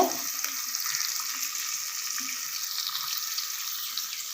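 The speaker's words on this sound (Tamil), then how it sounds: "சின்ன வெங்காயம் நல்லா ஃப்ரை பண்ணி விடுங்க" Small shallots frying in hot oil for a mango sambar tempering, a steady close hiss and crackle of sizzling that continues evenly without pause.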